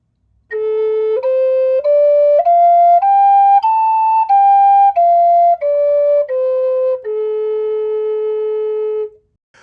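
Native American flute played with one finger hole kept covered, a clear breathy tone stepping up a scale and back down in about a dozen separate held notes, close and loud, played alone.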